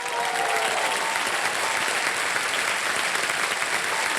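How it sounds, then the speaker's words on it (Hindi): Steady, dense applause from a large studio audience at a TV quiz show, loud and continuous throughout with no voices standing out. "और एक बार फिर तालियां बज जाए इनके लिए।"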